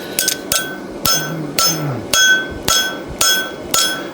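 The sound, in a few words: hammering a cold horseshoe flat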